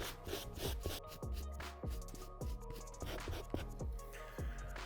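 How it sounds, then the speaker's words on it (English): A soft bristle brush scrubs the upper of a Jordan 1 Satin Shattered Backboard sneaker, giving steady rhythmic rubbing strokes, close and fairly quiet, with no talking. "using the soft bristle brush, we loosen the dirt"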